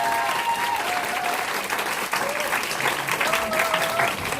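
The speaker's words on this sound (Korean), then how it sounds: "그럼 오늘 강의하실 박산주 사장님 큰 박수로 모시도록 하겠습니다." A seated audience at a business presentation gives warm, sustained applause to welcome a guest lecturer, dense and even throughout with a few faint voices beneath.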